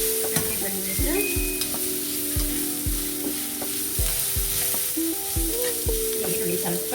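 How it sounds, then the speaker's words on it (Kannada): Ginger garlic paste frying with onions in hot oil for chicken gravy, a steady close sizzle broken by repeated scraping and stirring strokes of a spoon against the pan, with no voices. "ಈಗ 1 ಸ್ಪೂನು ಶುಂಠಿ ಬೆಳ್ಳುಳ್ಳಿ ಪೇಸ್ಟ್, ಹಸಿ ವಾಸನೆ ಹೋಗಬೇಕು"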